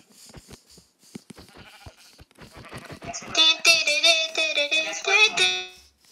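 Sheep bleats in a video game: a string of wavering, nasal bleats rings out loudly for a couple of seconds after some brief clicks and faint sounds.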